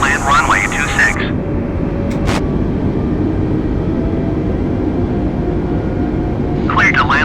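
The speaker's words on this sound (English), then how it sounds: "So someone's actually coming into land right now on the runway that we're about to take off from." A steady, loud jet-engine roar fills a flight simulator game while an airliner lands on the runway, with brief radio chatter at the start and end.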